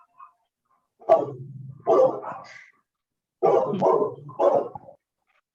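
Dogs bark indoors, close and loud, in two clusters of a few quick woofs each, separated by a pause of silence.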